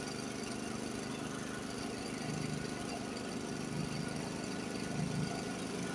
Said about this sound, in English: I don't know if you could hear the difference in the engine, but the engine was bogging down a little bit.